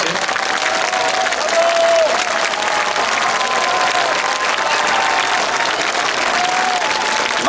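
Steady, dense applause from a large audience after a requiem concert performed outdoors on Krakowskie Przedmieście, continuing evenly without a break, with faint tonal sounds drifting over the clapping.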